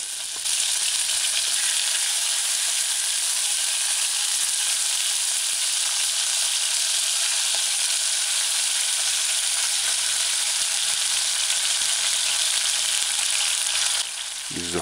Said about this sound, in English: Use a fork to shake off the seasonings before you add it to the heating oil.